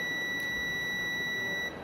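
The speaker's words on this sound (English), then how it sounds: "if I connect to each other, you will listen a long beep over there." A steady, continuous high-pitched electronic beep from a digital multimeter's continuity test sounds over a low background hiss, holding unbroken for nearly two seconds before cutting off.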